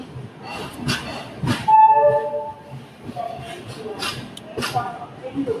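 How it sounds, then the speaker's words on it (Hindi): The Chennai-Howrah Mail train pulls out of Visakhapatnam, with a rumble of rail cars under nearby chatter, a drawn-out tonal horn or whistle partway through, and scattered clanks. "ये निकलती हुई विशाखापट्टनम से हमारी ट्रेन"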